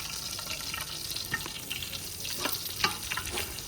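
Chopped onions frying in hot ghee with ginger-garlic paste give a steady close crackle and sizzle, with occasional sharper spits and stirring scrapes, no voices.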